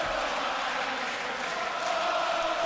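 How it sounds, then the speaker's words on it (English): Crowd at a WWE RAW event in Europe, a steady wash of many voices roaring and chanting that fills the whole arena without a break. "I love these European crowds"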